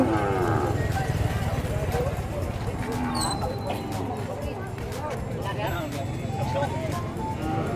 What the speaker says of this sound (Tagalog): meron na po tayong nabiling 2 kalabaw